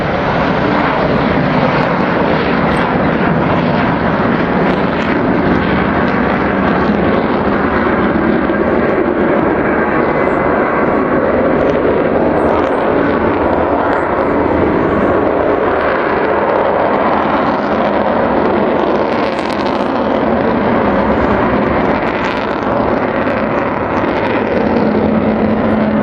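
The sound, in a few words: Avro Vulcan bomber flying at an air display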